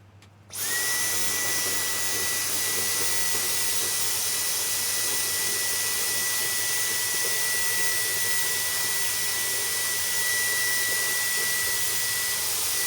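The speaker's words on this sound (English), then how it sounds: "I did not think the vacuum cleaner was gonna do that well" A vacuum cleaner pressed against a laptop fan vent runs as a steady, loud, continuous whine and roar, switching on abruptly near the start and holding at the same pitch to the end with no talking.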